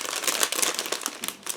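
A plastic bag holding vinyl tires for an ICM 1/35 Panhard 178 model kit crinkles and rustles close up as it is opened, a dense continuous crackle with no speech.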